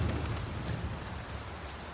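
Steady rain in the video game Dragon's Dogma 2, a dense, even wash of broadband patter with a low rumble underneath, continuous and moderately loud for the whole stretch with no voices.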